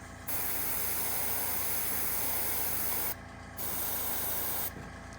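Spray paint hissing from an aerosol can in two long continuous bursts, with a brief pause between them and another pause near the end.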